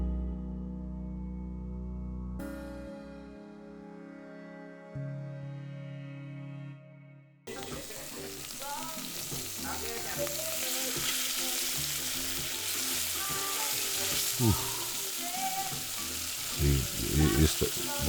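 Meat sears in hot avocado oil in a pan while birria is being made. Music plays during the first seven seconds, then a steady, loud sizzle fills the rest, with occasional clinks and shifting bursts as the pieces are moved.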